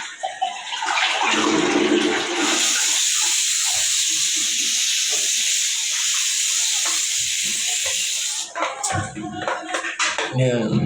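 A toilet flushes in a bathroom fed by a 21-gallon pressure tank with a 1 hp electric water pump, giving a loud, steady rushing hiss of water for about six seconds that cuts off abruptly, followed by brief clatter and soft voices.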